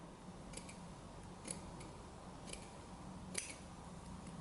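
Scissors snip through double eyelash-edged lace in a few faint, sparse cuts at an irregular pace over a quiet, hissy room background.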